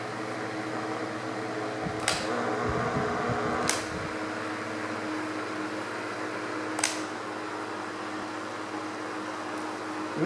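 A lubricated table fan runs with a steady motor hum and airy whoosh, close by, with a brief rattling stretch early on and three sharp clicks or ticks scattered through the run.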